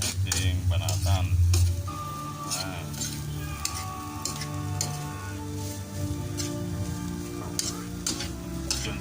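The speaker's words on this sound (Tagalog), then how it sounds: "halu-haluin na natin hanggang sa mag-brown na siya" Bamboo shoot adobo stirs and sizzles in a frying pan, a steady frying hiss with scraping stirs and utensil clinks throughout, close and moderately loud.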